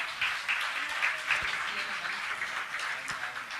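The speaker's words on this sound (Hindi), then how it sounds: "ताली तो बजाइए।" Audience applause at a Jain religious gathering in India, a steady wash of clapping sustained throughout at moderate level with some crowd murmur mixed in.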